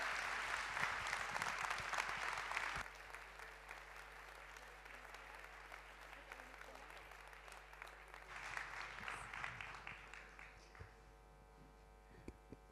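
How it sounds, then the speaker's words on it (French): Applause from the audience at a national gathering of working-class neighbourhoods in France, a dense wash of clapping that is loudest at first, drops after a few seconds, swells again briefly and then fades under a steady electrical hum. "je vous demande de l'applaudir."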